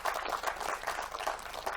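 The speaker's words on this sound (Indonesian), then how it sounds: "Tepuk tangan buat Semangat Langit." Audience applause at a live talk event, a dense wash of many hands clapping with a steady rhythm that carries evenly through the short moment, with no voices over it.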